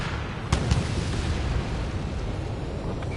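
A missile explodes in an aerial combat game on PS4, with a sharp burst followed by a heavy rumbling roar of continuous noise that stays loud throughout.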